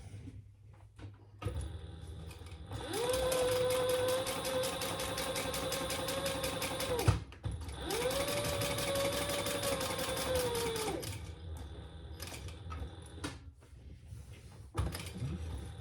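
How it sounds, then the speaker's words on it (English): A sewing machine stitching down the sides of a crossbody bag in two steady runs of several seconds each, with a brief pause between them, close and fairly quiet over a faint room hum. "Sew down the sides."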